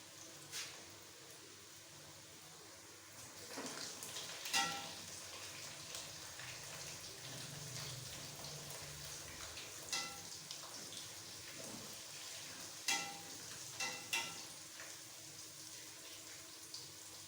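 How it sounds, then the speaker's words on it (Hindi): Finger chips fry in hot oil while being stirred in an outdoor village kitchen: a steady bubbling hiss runs throughout, broken by occasional sharp clicks and scrapes from the stirring. "आपने अच्छे तरीके से इसे हिलाना है, ये फ्राई हो जाए।"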